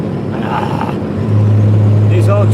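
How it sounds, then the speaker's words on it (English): An old truck engine drones loudly from inside the cab, its low hum rising and steadying as it drives, with faint sounds in the background. "these old trucks have a hard time."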